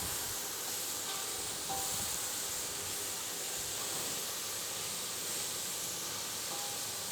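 Chopped onions sweat in a hot pan for Texas red chili, giving a steady, even hiss and sizzle that runs unbroken at moderate volume with no talking over it.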